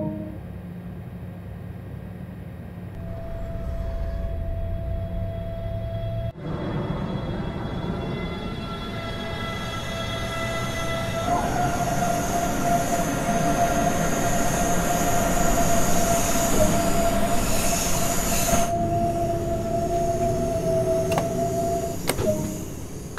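A BR423 electric multiple-unit train pulls away in Train Sim World 2: a rising electric motor whine and steady tones over rumbling wheels, with a sharp shift partway through, growing louder and fuller as it gathers speed.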